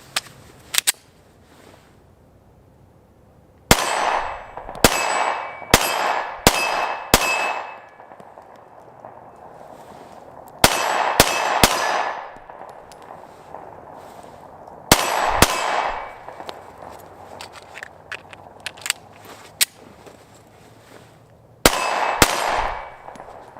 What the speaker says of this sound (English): I'm going to zero this thing up, do some shooting with it